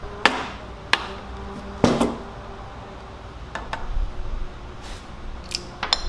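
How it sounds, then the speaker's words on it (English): A dead blow hammer whacking the side of a rotor on a 1970 Honda CL350 motorcycle: several quick, abrupt, close thuds spaced irregularly, with a few lighter taps later over quiet workshop background. "I'll just take a dead blow hammer or something to kind of whack on the side of this, and quick abrupt hits"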